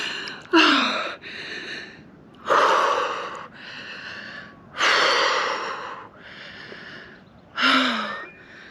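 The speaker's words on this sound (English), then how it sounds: "Takes a minute or two to get your breath back." A person gasping for breath after a cold wild swim in Scotland, with loud, close, ragged breaths coming in repeated heavy bursts about every two seconds.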